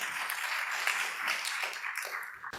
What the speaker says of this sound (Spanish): Recibamos con un fuerte aplauso a la doctora Fanny Muñoz Cabrejos